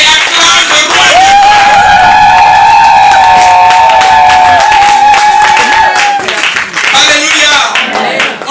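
Church congregation clapping and shouting praise to the Lord during a service, loud rhythmic applause and voices with a sustained sung or held tone running through the middle before fading into scattered claps.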